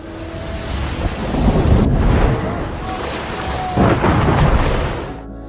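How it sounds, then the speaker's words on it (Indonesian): A night storm at sea around a small lifeboat: loud rolling thunder swells twice over heavy rain and wind roar. "di malam harinya mereka malah diterjang badai."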